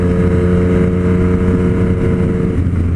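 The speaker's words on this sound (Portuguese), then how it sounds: "uma moto com quick shift, cara, fica sensacional" Motorcycle engine, a Yamaha MT-09 or Suzuki GSX-S750 fitted with a quick shifter, droning loud and steady at high revs with a constant harmonic whine throughout, no voices.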